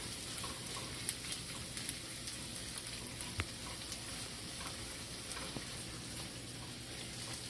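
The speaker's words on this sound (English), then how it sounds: "You don't want to burn your garlic because then it'll get bitter on you" Garlic sizzles steadily in hot oil in a pan, a dense even crackle with small pops scattered throughout and no voices over it.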